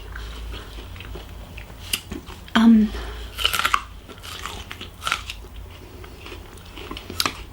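Crisp, close bites and crunching chews of ripe raw juicy fruit, several loud bites followed by wet chewing, with a voice briefly in the background.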